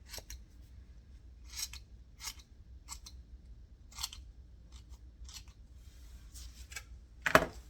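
Scissors snip through lace at a crafting table, a series of short crisp cuts spaced a second or so apart, close and fairly quiet, ending in a louder final snip.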